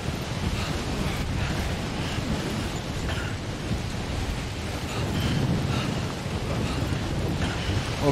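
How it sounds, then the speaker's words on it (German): Strong wind roars steadily in the video game Death Stranding, a dense, gusty rush filling the whole scene with a low rumble, swelling slightly midway and never letting up. "der Wind ruckt uns wirklich zur Seite"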